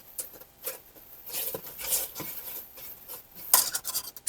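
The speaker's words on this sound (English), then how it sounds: "We're going to stir it constantly so it does not stick." Spoon scraping and clinking in a pot of melted butter, brown sugar and corn syrup, quiet irregular stirring strokes with small metallic taps.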